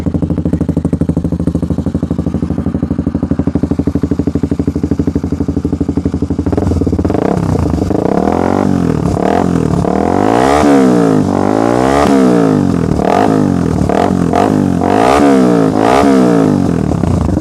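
A motorcycle with a loud aftermarket Purbalingga exhaust idles with a deep burble, then revs repeatedly in rising and falling bursts, close by.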